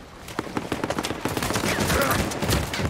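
AK rifle fire in the Uncharted 4 multiplayer video game: loud, close bursts of rapid shots in quick rhythm, blending into denser continuous gunfire and battle noise.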